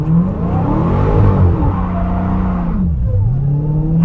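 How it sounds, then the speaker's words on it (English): A 2023 Dodge Challenger Hellcat Jailbreak launches at full throttle, its engine roaring loud and close as the revs climb, drop briefly, then surge again into a sustained high-revving pull. "To launch, press brake and quickly apply full throttle."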